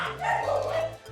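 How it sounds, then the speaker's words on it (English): A dog barks and yips in quick bursts at close range, with a low steady hum underneath. "Inspector Karyn Lowndes is responding to reports of incessant barking in Mount Albert."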